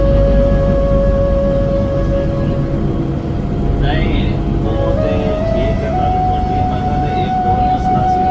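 Steady loud rumble and hum inside a moving train bound for Batu Caves station in Kuala Lumpur, with a sustained whining tone and a brief higher squeal midway.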